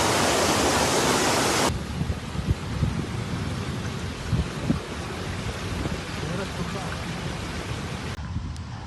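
Heavy rain pours down in Makkah, a dense, continuous hiss of downpour with low rumbling underneath that holds steady for several seconds.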